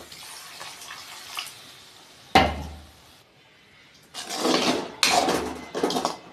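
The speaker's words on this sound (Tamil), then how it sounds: "இப்போ நம்ம புளி கரைசலை ஊற்றிக்குவோம்." Tamarind water poured into a pan of sautéed tomatoes for a turkey berry kuzhambu: a sudden splash, then a longer gushing pour with a few uneven surges, close and fairly loud.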